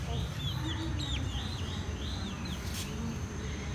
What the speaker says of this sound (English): Yeah, do you hear it? You know, it's chicken.